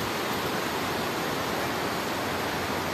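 The Cikahuripan river rushing beneath a swaying suspension footbridge, a steady broadband roar of flowing water filling the whole stretch with no voices.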